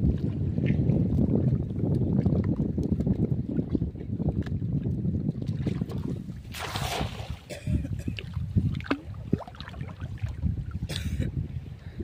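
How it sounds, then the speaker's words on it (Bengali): Wind and choppy waves on a Sundarbans river around a small fishing boat, a loud continuous rush of wind buffeting and water sloshing close by, with a few sharper splashes and no clear talk. "আর আজকে নদীর অবস্থাটা দেখো ঢেউ আছে দেখো এখানটা কানাদে তো দেওয়াচ্ছা সেই হাওয়াও দিচ্ছে"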